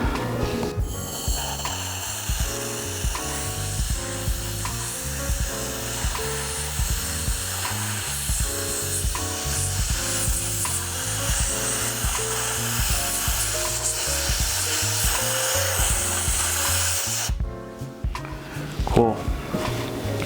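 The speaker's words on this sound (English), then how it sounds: "when you take some air duster or compressed air, you're gonna work it all throughout the housing" Compressed air duster sprayed throughout the opened plastic housing of a Nock2It device, a steady bright hiss lasting most of the span and cutting off near the end, with a lower tonal background underneath.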